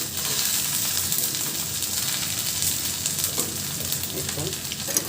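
Ginger and garlic fry lightly in a pan, giving a dense, even sizzle with faint stirring clinks layered through it, close and continuous for about five seconds.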